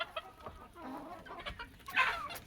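A hen on a farm homestead clucks softly a few times, with a sharper, louder squawk near the end, close but faint against quiet surroundings.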